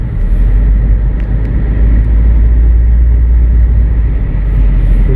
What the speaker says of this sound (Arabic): شلون تحرك الاوراق، عاصفة كلش قوية جت